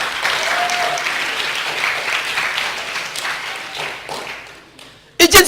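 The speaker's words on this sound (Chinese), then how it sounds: "用掌声献给耶稣啊！" A church congregation at a Saturday worship service claps in sustained, dense applause that fills the room, fading toward the end before a brief louder burst of voice.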